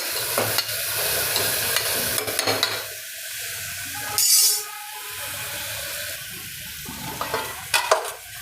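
A spoon scrapes and stirs through mixed vegetables for moong dal pulao in a sizzling pan, with occasional clinks against the metal and a soft, steady frying hiss.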